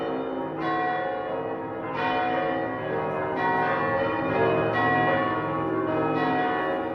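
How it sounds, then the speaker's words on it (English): Church bells toll repeatedly at a slow, even rhythm, each rich, resonant strike ringing out and overlapping the fading hum of the previous one, at a moderate distance. "Bells ring throughout the South."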